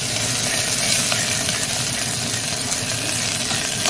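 Ginger, garlic, curry leaves and dry coriander fry in a pan for kadhi, making a loud, dense, continuous hiss with no voices.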